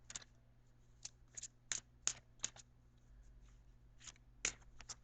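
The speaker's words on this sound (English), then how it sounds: "I'm trying to shuffle as much as possible" Tarot cards are shuffled by hand in a quiet room, producing sharp, close riffling and slapping bursts at irregular intervals over a faint low hum.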